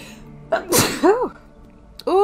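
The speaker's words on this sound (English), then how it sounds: "Oh, I gotta sneeze." A single close, loud sneeze bursts out alone, with a short breathy inhale just before, followed by a brief vocal exclamation afterward.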